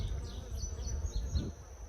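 Honey bees buzzing steadily at an open Layens hive, a close, continuous low hum with wavering pitch and no talk.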